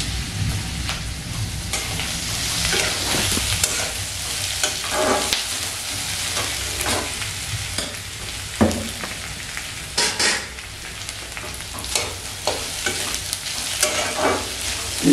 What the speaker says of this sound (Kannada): ಸೊ ಇವಾಗ ಇದು ಒಂದು ತಕ್ಕ ಮಟ್ಟಿಗೆ ಫ್ರೈ ಆಗಿದೆ.